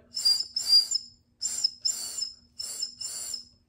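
A voice imitates bird calls with high, whistly chirps in three pairs, evenly spaced with short pauses between them.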